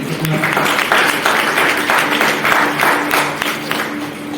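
Sustained, steady applause from a church congregation at a Hindi-language worship service, dense overlapping hand claps filling the room for several seconds without pause.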